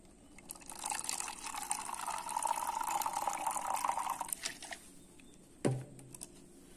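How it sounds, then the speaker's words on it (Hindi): Water is poured into a bottle to mix a wood polish, a steady splashing fill lasting several seconds, then a short knock as the bottle is set down. "तो सबसे पहले हम ये पानी थोड़ा सा डाल लेते हैं इस बोतल में।"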